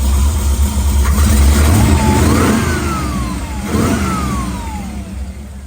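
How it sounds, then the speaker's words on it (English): Running 1957 Chevrolet Bel Air show car with a ZZ4 small-block crate engine and side pipes, loud low rumble with two rising-and-falling rev swells close by, no talk. "ZZ4 crate engine, small block."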